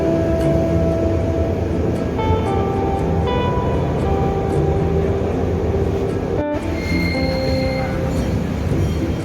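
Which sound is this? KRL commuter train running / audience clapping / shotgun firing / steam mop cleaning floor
KRL commuter train running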